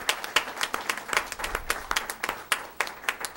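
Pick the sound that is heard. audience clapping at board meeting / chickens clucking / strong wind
audience clapping at board meeting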